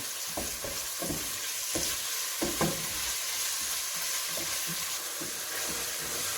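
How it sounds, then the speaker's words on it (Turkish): Minced meat and onions fry in a pan for a pasta dish, a steady crackling sizzle broken by a series of soft, irregular knocks and scrapes as the mixture is stirred, close and fairly loud throughout. "Ve kıymamızı da 3-4 dakika kavuruyoruz soğanla birlikte"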